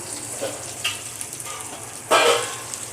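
Sautéing in a pan with salt added while making a Tamil mochai dal curry, giving a steady soft sizzle with a few louder bursts of frying near the end, no talking.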